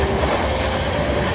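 A passenger train on the Mumbai to Lucknow route rumbles steadily along the rails, a dense, loud, continuous roar with faint clatter heard from on board.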